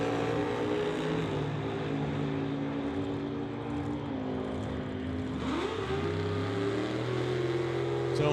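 Two drag cars, a black 1970 Nova and a 1953 Corvette, roar loudly off the line at an old-time drag meet, engines droning steadily then sweeping up in pitch as they rev and accelerate away.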